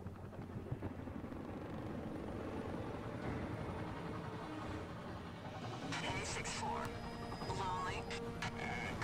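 Helicopters in the Gears of War video game drone with a steady low rotor rumble. Battle noise and voices sit on top, and sharper clatter joins near the end.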